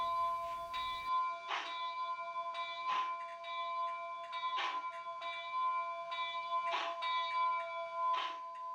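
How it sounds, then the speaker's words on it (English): An HO-scale Rapido Royal Hudson model locomotive's bell rings in evenly spaced clangs, about five strikes over several seconds, bright and metallic over a steady high electronic hum. "F1 rings the bell."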